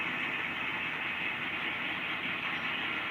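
A model train on a layout shoves Jackson plastic cars into track 3, heard as a faint, continuous rolling hum and hiss with no voices.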